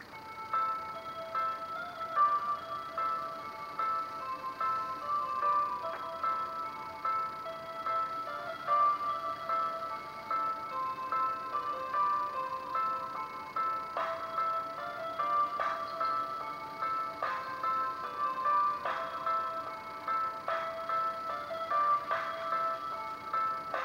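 A pre-master dubstep track plays quietly with a repeating synth pattern and ticking percussion, steady and faint throughout.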